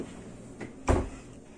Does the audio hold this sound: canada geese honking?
no